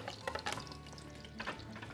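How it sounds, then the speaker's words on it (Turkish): Onions sauté and sizzle in a pan with the crackling, hissing fry of hot oil, punctuated by bursts of stirring and scraping, close and soft, with no talking. "Soğanlarımız yavaş yavaş kavrulmaya başlasın."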